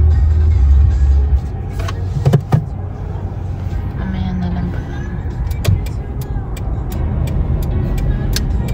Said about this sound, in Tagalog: so much traffic na